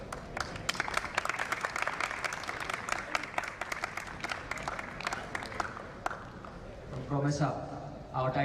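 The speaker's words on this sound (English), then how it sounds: "A big round of applause, guys, everyone." A crowd at a premier league event claps steadily with sharp individual claps standing out in a sustained round of applause, then a voice speaks over its tail.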